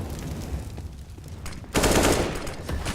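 A burst of gunfire, including Mag 7 shotgun blasts, erupts in a Counter-Strike match, loud and dense after a stretch of quieter game noise.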